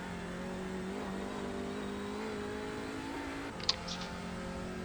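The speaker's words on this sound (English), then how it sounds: "Full throttle down this back straight" An Audi TCR race car at full throttle on the Nürburgring in iRacing gives a steady, droning engine note held near constant. A short click sounds near the end, with no voices.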